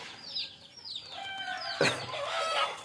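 Free-range country chickens with small chicks, giving a run of short descending clucks and chirps up close, with a brief rustling burst partway through and steady peeping continuing after.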